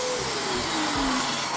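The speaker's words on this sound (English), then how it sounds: "My circular saw has a vacuum cleaner inside, which makes it very noisy." A circular saw with a built-in vacuum cleaner, a 1 kW saw motor paired with a 1.1 kW vacuum, runs with a steady, loud, rushing whine that holds without pause.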